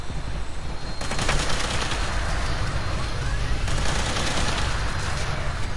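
A Tesla rifle firing in Fallout 76 makes a loud, sustained crackling barrage of rapid shots that swells after the first second and continues without pause to the end.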